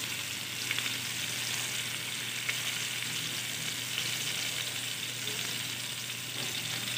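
Chicken chow mein ingredients fry over lowered gas in a pan, giving a soft, even sizzling hiss with faint occasional stirring ticks, steady throughout and free of voices.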